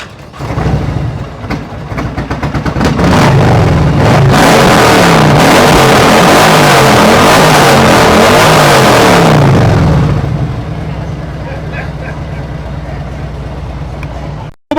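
Motorcycle with a 50 caliber slip-on exhaust and Tab Performance headers, parked in neutral at Daytona Bike Week, is revved hard and loud for several seconds, its roar rising and falling before dropping back to a rumbling idle.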